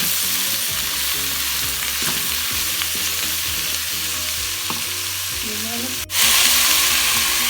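Tomatoes frying and being stirred in a Geek Robocook electric cooker, a loud steady sizzle with spoon scrapes and a low mechanical hum, cut by a sudden break near the end before the sizzle resumes louder.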